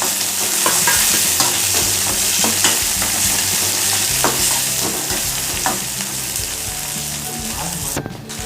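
Onion and tomato sizzle loudly in a pan, stirred with repeated scraping strokes over a constant frying hiss, close and continuous with no talking.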